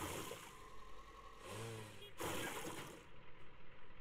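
Crops being watered in the farming video game Farm Together, a steady game splash with a brief swell in the middle and a soft engine-like hum underneath, no voices.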